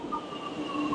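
A Lucknow Metro train runs with a steady rolling rumble and faint high wheel squeal, close and continuous, with no voices.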